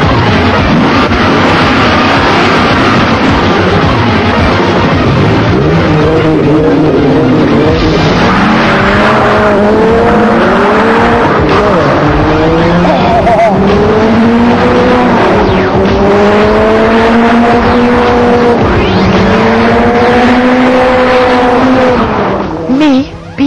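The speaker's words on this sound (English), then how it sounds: "the 8-litre V10 Chrysler Viper" An 8-litre V10 Chrysler Viper driven hard, its loud engine repeatedly revving up through the gears with rising pitch sweeps and tire noise, very close and continuous, with a voice speaking over it.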